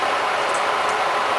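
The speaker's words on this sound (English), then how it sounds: "that's my kettle boiling right beside the camera" An electric kettle boiling water right beside the camera gives a steady, loud, broadband rushing hiss with a dense bubbling texture that holds constant throughout, with no voices.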